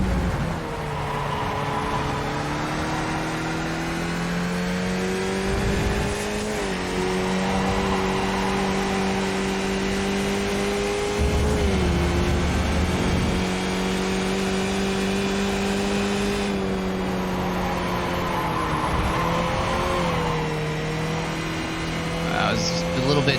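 A race car engine in an iRacing video game drones and revs continuously, pitch rising and falling through gear changes, with a voice talking faintly underneath.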